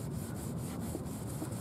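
Wet sponge with abrasive cleanser scrubbing a yellowed car headlight, a steady close rubbing and scouring that continues without a break.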